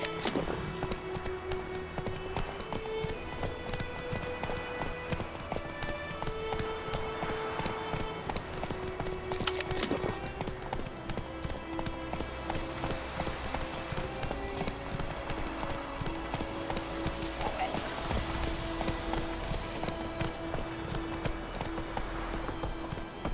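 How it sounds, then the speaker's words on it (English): Hoofbeats of a horse clip-clopping at pace in The Witcher 3, a steady rhythmic patter running throughout alongside in-game music and ambience. "Run, Roach"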